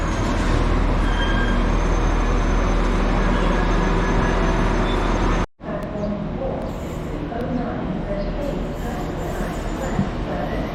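Train 15103 rolls into a station platform, a loud continuous rumble of wheels and engine filling the scene, briefly cutting out midway before the steady rolling noise resumes.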